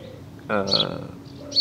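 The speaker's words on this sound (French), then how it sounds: "il y a un petit oiseau qui a fait son nid juste là, et donc on l'entend assez bien" A small bird nesting close by, heard outdoors with faint high chirps near the start and a brighter chirp near the end, while someone speaks over most of it.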